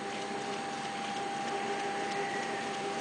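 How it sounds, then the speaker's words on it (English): A 1952 Philips EL3501 reel-to-reel tape recorder takes its tape back up, giving a steady, fairly quiet motor whir with a faint hum running evenly for about three seconds. "you can press that button again and the tape immediately is taken back up again"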